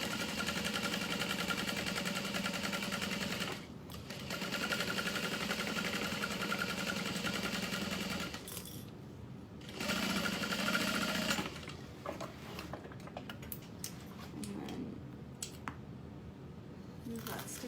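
Sewing machine stitching waterproof canvas with vinyl along a curve for a foldover bag, running in steady bursts with brief pauses between runs of stitches.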